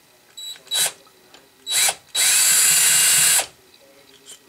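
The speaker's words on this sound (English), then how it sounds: "Now I'll take these screws out real quickly" Power screwdriver backing out keeper screws from a 3-jaw lathe scroll chuck, heard as two short whirring bursts and then a longer sustained run of about a second, close and loud, with no talking.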